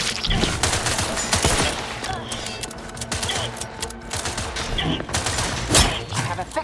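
Sustained bursts of rapid gunfire from a sci-fi shooter game, The Outer Worlds 2, loud and dense throughout with repeated volleys, mixed with game effects and faint voices.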